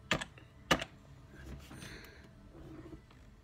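Keys on a computer keyboard being typed, a couple of sharp clustered taps near the start followed by quieter, sparser clicking against a low room hum.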